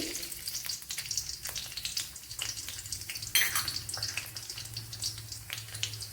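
Garlic, ginger and shallots fry steadily in a pan with a continuous close sizzle, broken by a few sharper crackles and a brief louder burst partway through; nobody speaks.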